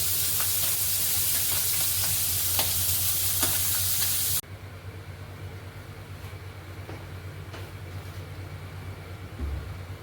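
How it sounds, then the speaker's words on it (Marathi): A paste of onion and coriander masala fries in a pan for fish curry, a loud steady sizzle that abruptly drops to a quieter, duller frying hiss midway. "या ठिकाणी कांदा, कोथिंबीर याचा मसाला भाजलेला आहे आपण"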